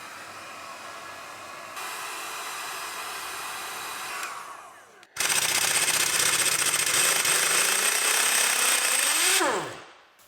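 A heat gun warms the crankshaft pulley bolt on a Ford Mondeo Mk5 2-litre diesel. A steady, close blowing roar runs, dips, then returns louder before winding down, with no voices.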